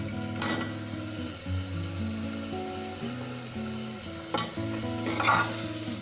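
Small potatoes fry in a hot pan, a steady close sizzle with occasional scraping stirs and utensil knocks.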